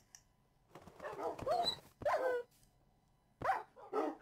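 A dog in Minecraft barking and yipping, a few short clustered barks spaced out with brief pauses, close and clear with no talking.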